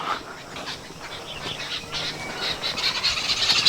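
Several birds call and chirp in short repeated bursts, moderately loud against a quiet background with no voices.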